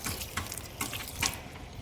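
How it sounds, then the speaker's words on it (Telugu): Water poured by hand from a container onto potted garden plants, including flowering and crossandra plants, with a soft splashing trickle and a few brief splashier bursts, close by, no talking. "ఈరోజు కొంచెం ఎక్కువ నీళ్ళు వేస్తున్నాము"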